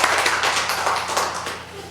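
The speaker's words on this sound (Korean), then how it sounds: "수고하셨는데 사진 한번 이따가 찍고 박수 한번 쳐주세요" An audience claps at a church testimony gathering after an interpreter is thanked, a dense, steady patter of many hands sustained for a couple of seconds at moderate loudness with no talk over it.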